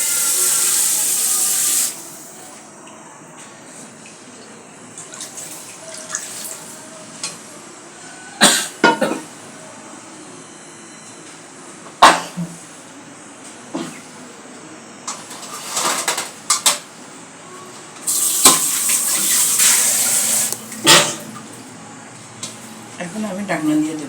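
Water poured into a hot pan of bitter gourd frying in oil, giving bursts of loud steaming hiss and sizzle near the start and again later, with a person talking in between.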